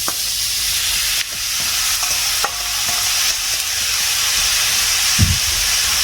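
Pineapple curry being stirred and sizzling in a pan, with a steady frying hiss and several sharp scraping strokes of the spoon against the pan, close and continuous, no talking.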